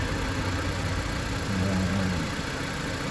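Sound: Jeep Patriot engine idling

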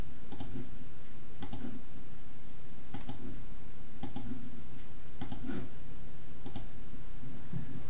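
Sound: computer mouse clicking in Mastercam

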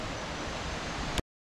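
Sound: waterfall, Tad Yuang waterfall in Laos

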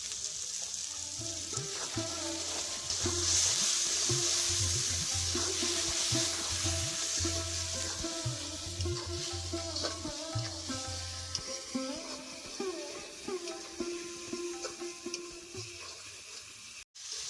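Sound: spices with salt and turmeric frying in a pan

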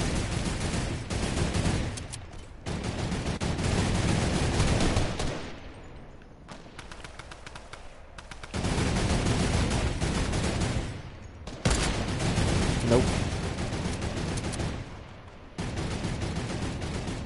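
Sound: light machine gun firing in a video game

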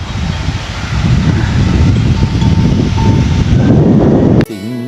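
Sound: strong wind blowing through bamboo

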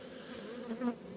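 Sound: honeybees in a hive box

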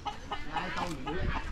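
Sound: caged roosters clucking

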